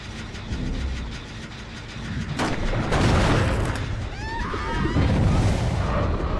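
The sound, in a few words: explosive mine blast in Dead by Daylight video game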